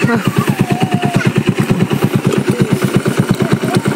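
Motorcycle engine running at a low, steady idle outdoors, loud and close, with a rapid regular chugging pulse of exhaust beats throughout and faint voices in the background.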